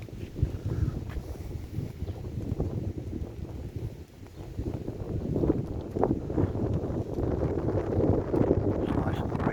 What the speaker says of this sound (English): It's nice and breezy today.